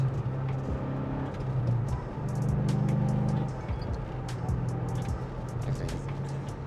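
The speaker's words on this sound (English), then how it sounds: "Just go through the gears. Nice rev matching on the downshifts, and then that mid-range punch." A Mercedes E55 AMG wagon converted to a six-speed manual pulls through the gears, its V8 drone rising and falling in tone across several shifts, steady and moderately loud from inside.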